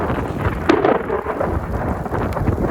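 Thunder from a very close lightning strike booms outdoors during a storm, a sharp crack followed by heavy rolling rumble, with rain falling steadily throughout.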